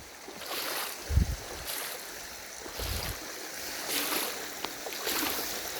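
Water runs steadily in a small creek on a cold day, a continuous close rushing wash with a few louder splashy surges and no talk.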